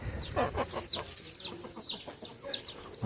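Farm hens and roosters cluck and call in quick overlapping bursts, close and fairly busy over a low background.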